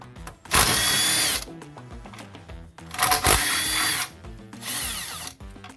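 A power tool whirs in three bursts about a second long each, close and loud, as it works the bolts off the inverter of a 2011 Nissan Leaf.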